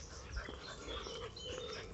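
Dogs out on a walk give faint, high whimpers and yips over steady outdoor noise, close but quiet under a constant wind-like rush.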